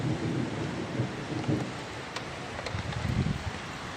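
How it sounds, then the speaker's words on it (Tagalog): Steady rain patters all around while low rumbles of thunder roll underneath, fairly loud and continuous with no voices. "Ayun na nga, umulan na nga dito. Ulan na."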